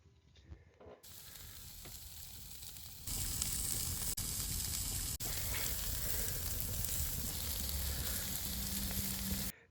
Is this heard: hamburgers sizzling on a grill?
yes